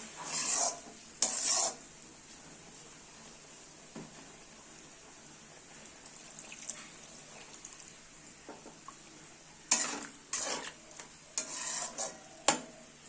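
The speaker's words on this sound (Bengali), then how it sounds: "এটা জলের সঙ্গে বেশ ভালো করে মিশিয়ে নেব।" Chana masala stirred with water in a cooking pot, mostly a soft low simmer with quiet stretches, broken by a few bursts of louder scraping and clattering as the spoon works the pot.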